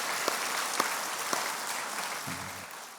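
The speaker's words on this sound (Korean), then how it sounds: "우리 그 선교사님 가족을 위해 박수 한번 합시다" A church congregation at an evening prayer service applauds for a missionary's family, steady moderate clapping with a few sharper claps standing out, fading slightly near the end.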